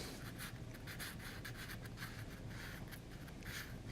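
Harder pastel sticks sketch quick rough lines on sanded pastel paper, making a close, faint, gritty scratching in rapid repeated strokes.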